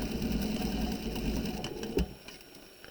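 A sewing machine runs a short back tack in a seam allowance on a sweetheart top, a fairly quiet low hum with light mechanical ticking, pausing with a soft knock near the end.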